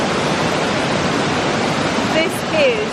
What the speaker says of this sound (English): This might be the best waterfall we've seen so far in Germany.